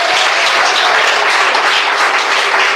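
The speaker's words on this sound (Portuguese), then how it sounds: "E mais palmas glorificam o Rei Jesus." Dense, steady applause from a church congregation during an evangelical worship service, a continuous wash of many hands clapping at close range with no voices standing out.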